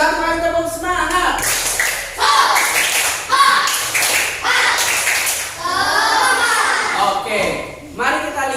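A classroom of schoolchildren claps together in a few bursts of rhythmic group claps and taps, close and lively, with a teacher's voice and children's voices mixed in.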